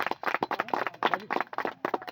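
Crowd clapping in rhythmic bursts at a cricket tournament prize ceremony on an outdoor cricket ground, honouring a man-of-the-match trophy presentation, steady and fairly close with no talk over it.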